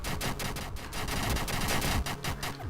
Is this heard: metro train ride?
no